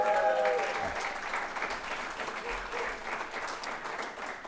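Moderate audience applause after a college talk at McDaniel College, a steady crowd clapping that continues for several seconds, with a brief tonal sound at the start and no clear speech.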